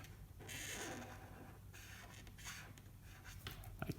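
A pen sketching small squiggly crease lines on paper for a cartoon drawing, producing a close, steady scratchy scribble with brief pauses between strokes.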